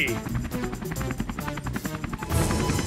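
A cartoon helicopter's rotor chops rhythmically and steadily under children's animated voices talking over it.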